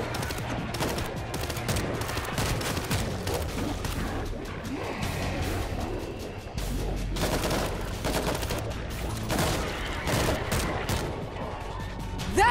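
Gunfire in the World War Z video game is heard as dense, rapid bursts of automatic shots mixed with crashes and booms, continuous and loud throughout.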